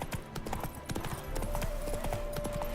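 Horse hooves clip-clop at a steady walking rhythm in The Witcher video game, even repeated thuds over a low ambient bed with faint game sounds, moderately close.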